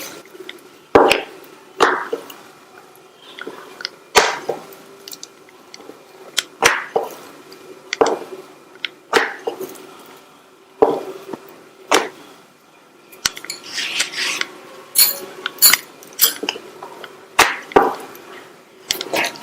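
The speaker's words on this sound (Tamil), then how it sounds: "மாவுல பெரட்டிட்டு ரவுண்டா தேய்ச்சிடலாம்." A rolling pin flattens a ball of chapati dough on a board, giving a series of short, sharp knocks and rolling strokes in an uneven rhythm, close and clear.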